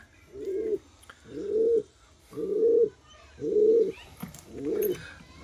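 Pigeons in a bamboo cage give five steady, evenly spaced coos, each low and rounded, heard close and clear with no talk over them.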